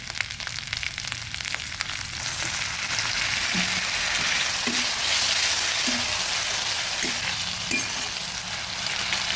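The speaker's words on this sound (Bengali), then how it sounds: "পেঁয়াজের সঙ্গে মিশিয়ে ভেজে নেব" Onion with ginger and garlic frying in oil alongside a katla fish head, a steady close, loud sizzle with occasional stirring clinks of a spatula throughout.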